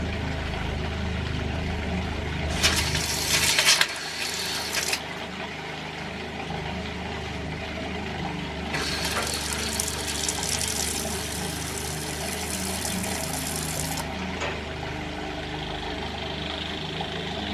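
A water pressure booster pump struggling to prime with little water left in the tank, a steady mechanical hum and rattle with two long bursts of hissing, gurgling rush as water and air push through, no talk.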